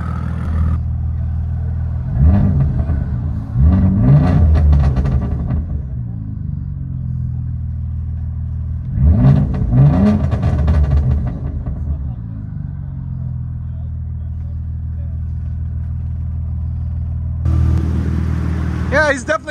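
A car's V6 engine revs in three bursts, each a loud rumbling climb and fall, with steady idle between them and a fresh rise at the end. It is recorded close up.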